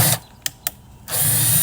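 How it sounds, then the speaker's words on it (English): A power drill bores drainage holes in a 5-gallon bucket: a loud whirring burst stops, two sharp clicks follow in the pause, then the drill whirs again. "you want to make sure that you drill some drainage holes in this thing."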